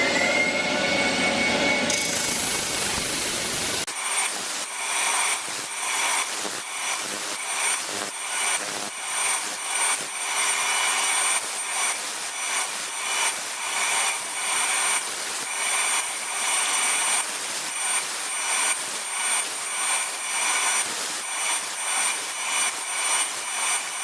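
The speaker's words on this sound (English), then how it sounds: "you can even use this disc sander to do things like sanding pen blanks back." A disc sander attachment on a wood lathe sands back a pen blank. It gives a loud, steady, roaring whir with a gritty abrasive hiss that pulses rhythmically as the workpiece is pressed against the spinning disc.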